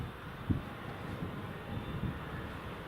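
An airliner moves along the runway at Newcastle International Airport in rain, heard as a faint, distant and steady engine drone with a few soft bumps.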